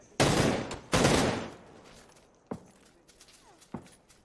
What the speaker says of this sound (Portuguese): Tem um atirando em você lá de trás.